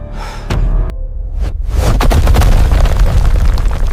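A giant skeleton's bony hand crashes into the earth with a heavy booming impact, followed by a loud, sustained rumbling crash of debris.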